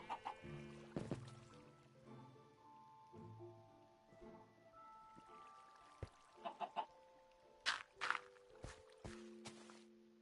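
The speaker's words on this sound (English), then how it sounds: "Oh, poor little chicken." Chickens clucking in Minecraft, short separate clucks and scattered game sounds over a quiet stretch, mixed with soft blocky note-like tones and a few sharp pops toward the end.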